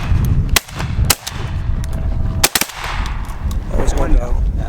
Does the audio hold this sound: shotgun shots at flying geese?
yes